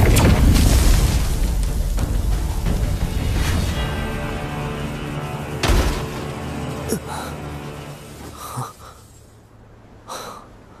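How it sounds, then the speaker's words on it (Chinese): A magical Nascent Soul explosion in a Chinese fantasy drama starts as a loud, deep boom and fades into rumbling with a few later thuds and breathy effects. "这就是元婴爆炸的威力吗？"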